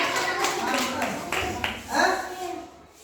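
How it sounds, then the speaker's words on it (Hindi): A class of children bursts into brief ragged clapping, overlapped by a teacher's voice and children speaking. "घोड़ा, ताली बजाइए"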